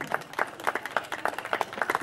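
Audience applause at a commune day celebration in Vetrișoaia, a steady patter of scattered hand claps from a crowd, moderately close and without speech.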